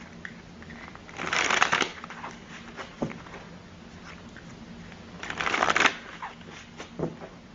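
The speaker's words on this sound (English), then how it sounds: "Let me take the tarot now, the Mucha Tarot, and see what they have to add." Mucha Tarot cards are handled and shuffled close by: two bursts of crisp riffling flutter, each lasting about a second, separated by quieter soft card rubs and taps.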